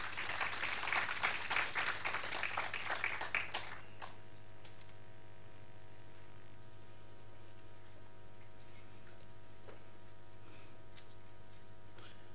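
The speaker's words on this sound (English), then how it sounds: "Let's give her another round of applause." A short burst of applause fills the first few seconds, then stops abruptly, leaving a steady low hum.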